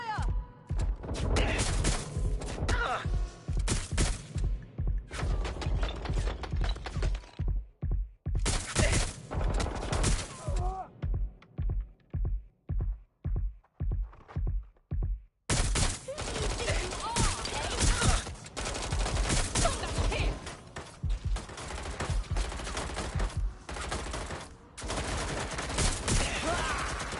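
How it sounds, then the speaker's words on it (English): Rapid bursts of automatic gunfire in the video game Watch Dogs Legion, loud and sustained, broken by a stretch of separate single shots before heavy firing resumes. "I'm under fire!"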